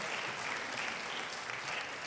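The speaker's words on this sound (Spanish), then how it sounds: "Denle un fuerte aplauso" A church congregation applauding loudly and steadily, a dense, even wash of clapping from many hands filling the room without pause.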